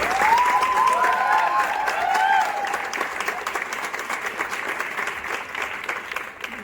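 Applause from an audience at an AWPL gathering, welcoming a man who bought an Audi A4; steady, dense clapping that runs loud throughout and thins slightly toward the end, with a few whistling cheers near the start.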